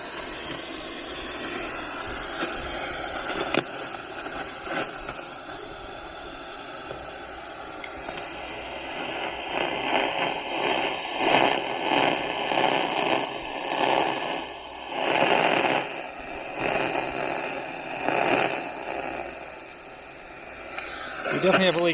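An ultrasonic leak detector with its volume turned up renders a leak as a steady, hissy static with pulsing swells and fluctuations through the middle of the clip, fairly loud and continuous.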